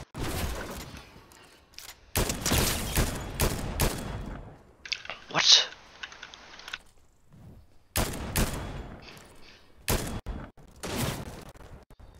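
Loud bursts of rapid gunfire in the video game Fortnite come in several separate volleys, with short quiet gaps between them.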